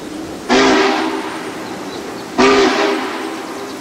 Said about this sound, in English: The train has to gain elevation to get around Cutler Dam, and it's perched up on the side of the cliff.